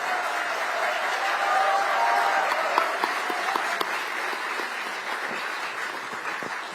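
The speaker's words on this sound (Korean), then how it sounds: "큰 박수로 맞아주시기 바랍니다." Audience at a commemorative ceremony for the Panmunjom Declaration anniversary applauding as a former president is welcomed to the stage, a sustained, even patter of many hands heard at a moderate distance in a large hall.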